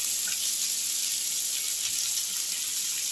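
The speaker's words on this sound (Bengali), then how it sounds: "পেঁয়াজটা একটু ভালো করে ভাজা ভাজা হবে তেলটা খুব গরম আছে" Onion, garlic and ginger fry in very hot oil, giving a steady, even sizzling hiss that holds unchanged throughout, with no talking.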